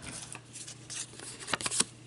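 Scissors cut a paper image for a popsicle-stick vintage bluebird purse charm: a series of faint, crisp snips and rustles that grow louder and quicker toward the end, close by, with no talk.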